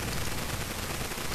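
Dense, continuous rumble of cannons firing shrapnel shot in the Total War: Shogun 2 strategy game, a steady wash of overlapping battlefield blasts with no clear gaps.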